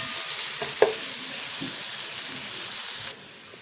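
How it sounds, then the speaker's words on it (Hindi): Onions frying and browning in a pot for kabab handi, giving a steady broadband sizzle throughout with a brief stirring clatter near the start, then a quieter sizzle for the final half second. "तो ये देखें हमारा प्याज थोड़ा सा ब्राउन हो गया।"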